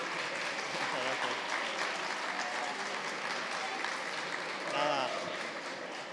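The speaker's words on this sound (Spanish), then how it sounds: "Un aplauso, hombre." Applause from the audience at the Mobile Week Alcalá event, a dense, sustained clapping crowd at moderate volume, with a voice speaking briefly over it near the end.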